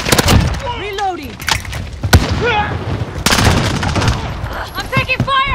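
Loud, sharp bursts of gunfire and explosive cracks in the video game Modern Warfare 2019, firing in clustered volleys close by, mixed with radio-style voices talking.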